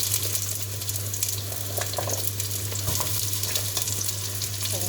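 Onions fry in a hot pan for a paneer devilled dish, giving a continuous close sizzle with crackling bursts and occasional stirring scrapes, steady and fairly loud throughout.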